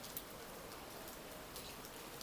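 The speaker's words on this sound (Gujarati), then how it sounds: "વરસાદ તો બહુ સારો આવે છે" Steady rain falls, a soft continuous patter with occasional louder drops, fairly faint and without voices.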